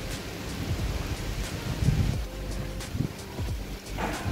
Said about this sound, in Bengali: এখনও বাইরে প্রচুর বৃষ্টি হচ্ছে এবং বৃষ্টির আওয়াজ শোনা যাচ্ছে।